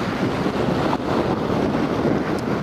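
Strong wind blows across the shore during shore jigging, a loud continuous rush and buffeting against the microphone with a faint wash of surf beneath, no voices heard.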